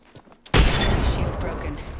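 Frag grenade blast in a first-person shooter video game: a sudden loud, close boom that breaks into a rough, rumbling, debris-laden roar and stays heavy to the end of the clip, after a brief moment of near quiet.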